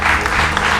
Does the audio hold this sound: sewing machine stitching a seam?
no